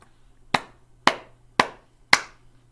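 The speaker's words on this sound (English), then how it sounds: "So really get ready to work hard on the clapping patterns" Four sharp hand claps, evenly spaced about half a second apart, ring out alone in a quiet room, tapping out a simple rhythm pattern to copy.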